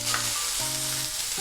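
Red bell pepper sizzles in a pan for a macaroni pasta salad, a brief, loud, steady frying hiss at close range.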